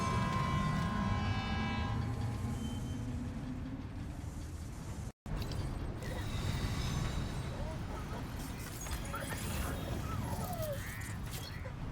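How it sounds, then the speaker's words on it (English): In the Death Stranding 2 video game, a monorail rides along with a loud steady rumble and whine, a horn-like tone sounding near the start, and a speaking voice heard over the noise. "Let's ride the monorail."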